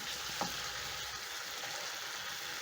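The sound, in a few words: fish stirred into frying pan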